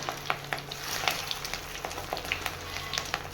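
Fish roe fritters with chopped onion and chilli fry in a pan, giving a steady close sizzle broken by scattered crackles and pops, with no talking.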